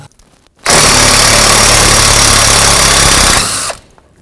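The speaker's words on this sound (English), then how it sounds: "use the electric gun, because hopefully the vibration will help with the rust." Electric impact gun running on a rusty ABS sensor bolt of a 1997-2004 Dodge Dakota: a loud, close, continuous whirring buzz for about three seconds, starting abruptly and tapering off as the trigger releases.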